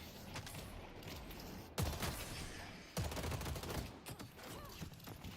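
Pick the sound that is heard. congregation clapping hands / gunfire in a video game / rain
gunfire in a video game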